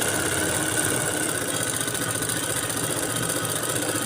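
A sewing machine stitches a seam along the edge of a churidar, running as a steady, continuous motor hum with a dense mechanical chatter, close and unbroken throughout.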